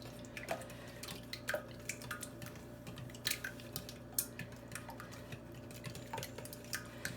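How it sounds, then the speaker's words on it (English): A whisk beats pancake batter ingredients for keto coconut pancakes in a bowl, giving quiet, quick rhythmic taps and clinks, with no voices. "I'm just going to whisk these up a little bit first"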